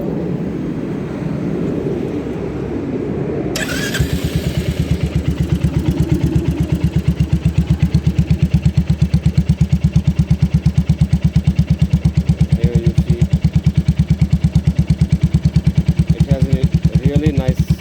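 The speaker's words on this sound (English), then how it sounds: "Here, let's hear the engine sound." Royal Enfield Classic 350 fitted with its genuine stock exhaust, idling after start-up: a steady, loud, even single-cylinder thump runs for most of the clip, close up, following a brief stretch of background noise and a voice.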